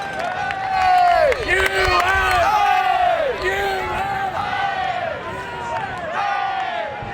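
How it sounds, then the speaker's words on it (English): A USA cheer squad chants loudly in coordinated, rhythmic calls at the World Ultimate Championships mixed final against Canada, with crowd noise and a commentator's voice beneath. "USA cheer squad getting loud and coordinated"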